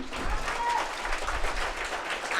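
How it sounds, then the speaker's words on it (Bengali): Applause for a school headmaster at a girls' high school event: a steady, dense wash of many hands clapping together, moderately loud and sustained throughout with no pauses. "স্যারের জন্য জোরে একটা তালি"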